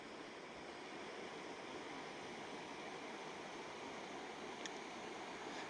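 A river beside a campsite in the Hoh Rainforest rushes with a steady, even broadband roar, constant and unbroken, heard alone without voices.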